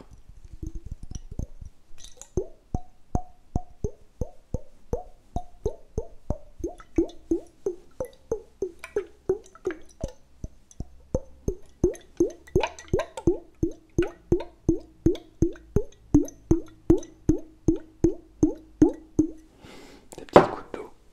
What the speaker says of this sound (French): Des petites gouttes d'eau.